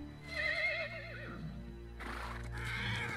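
Horses from the animated series The Dragon Prince neigh and whinny in a shrill, wavering cry over a low background rumble, with a second, noisier whinny following, heard faintly without speech.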